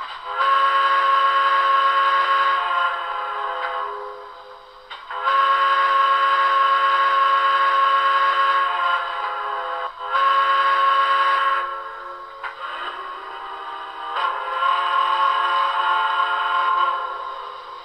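A Broadway Limited Blue Goose model train sounds its third whistle option, a chime-like steam whistle blown in four long, loud blasts separated by brief gaps, with the last blast wavering.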